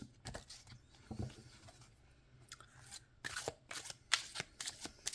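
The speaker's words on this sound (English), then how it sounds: "when I shuffle," A tarot deck is shuffled by hand with overhand shuffles, giving soft irregular bursts of card-on-card shuffling and tapping that grow busier toward the end, close and fairly quiet with no talking.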